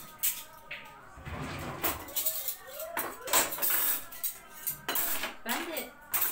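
Clean spoons and glasses are lifted out of a dishwasher, giving a run of sharp metallic clinks and glassy knocks in irregular bursts, close by and fairly quiet.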